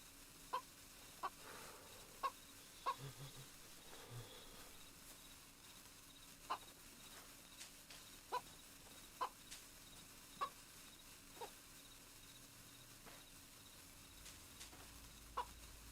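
A chicken in DayZ gives short, sharp clucks spaced every second or so over a faint, steady outdoor bed of insect chirring, quiet and somewhat distant, with no talk.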